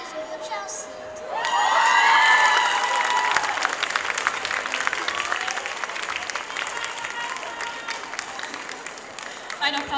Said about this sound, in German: Ein Applaus für euch, ja.